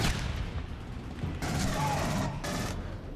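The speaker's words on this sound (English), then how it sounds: "Let's fire fucking rockets, shall we?" Rockets launched in the video game Aliens: Colonial Marines, heavy whooshing blasts in two loud bursts over a dense, rumbling game soundscape.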